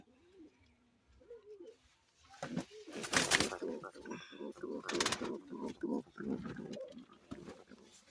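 Pigeons coo softly inside a pigeon farm where pairs are nesting on eggs, the throaty calls coming close and repeated in bursts, with a person speaking over part of it.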